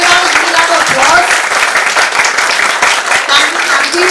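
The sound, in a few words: audience applause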